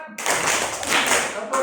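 A group claps together in a quick steady rhythm, loud and close, filling the room with dense continuous applause-like patter.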